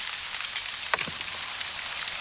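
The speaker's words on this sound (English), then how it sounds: "as the rain starts to sweep again along the contours of the valley side" Steady rain sweeps across a hillside farm valley in winter, a dense even hiss. One brief knock stands out near the middle of it.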